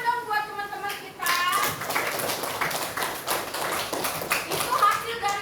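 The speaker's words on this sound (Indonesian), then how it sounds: "Beri tepuk tangan dong buat teman-teman kita" A classroom full of people at an Indonesian primary school breaks into a burst of clapping that lasts several seconds, following a brief spoken line.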